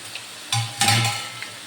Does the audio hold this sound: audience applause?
no